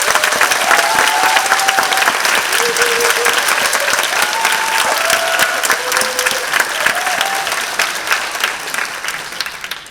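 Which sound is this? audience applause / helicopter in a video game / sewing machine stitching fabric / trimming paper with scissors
audience applause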